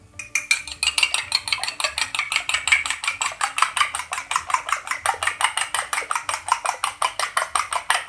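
Fast, steady rhythmic tapping of a whisk or fork beating an egg in a bowl, close and clear, continuing without pause.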